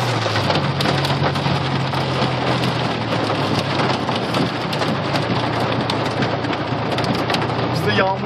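Heavy rain drumming on a car while driving through deep water, loud dense patter and splashing over a low engine hum, continuous throughout, with brief voices faintly under it.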